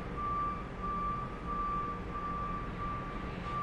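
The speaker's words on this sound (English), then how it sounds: "you do hear just like trash trucks all day long" Trash truck reversing beeps repeat steadily in a residential neighborhood, a thin high tone pulsing over a constant low rumble of engine and street noise.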